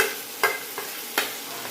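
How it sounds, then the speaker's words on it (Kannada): Tomato and grated coconut going into a hot tempering in a pan, with a soft steady sizzle broken by a few sharp stirring scrapes, close and fairly quiet, no voices. "ಇವಾಗ ಒಗ್ಗರಣೆ ಮಾಡಿದೆ. ಇದು ಟೊಮೊಟೊ ಹಾಕ್ತೀನಿ."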